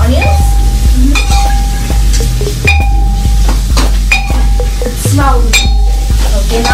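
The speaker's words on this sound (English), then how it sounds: "This is very sensitive cabbage. So this takes not too long to fry." Cabbage and onions frying over high heat in a pan, loud and close, with constant sizzling and repeated metallic scrapes and clinks from steady stirring, plus a voice now and then.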